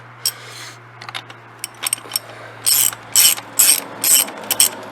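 A ratchet wrench breaks loose the axle nut on a Suzuki DRZ 400 S supermoto wheel: a few scattered clicks, then bursts of rapid, loud, close ratcheting strokes, with no talking.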